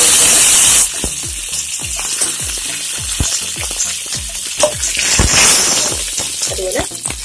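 Onions hit a hot pan of frying urad dal, setting off a loud, close sizzle with repeated scraping stirs, after a brief burst of running water at the start.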